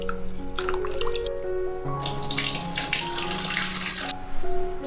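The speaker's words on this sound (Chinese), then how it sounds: "把所有食材放到碗里面清洗一下。" Soup ingredients (carrot, figs, grass root, pear and candied dates) are rinsed in a bowl under a running tap, making continuous splashing and trickling water with bright dripping and sloshing, close and fairly loud.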